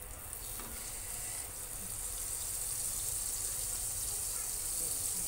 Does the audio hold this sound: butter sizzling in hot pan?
yes